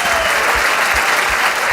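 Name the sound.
audience applause after debate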